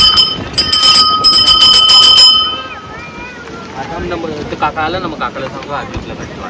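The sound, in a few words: temple bell being rung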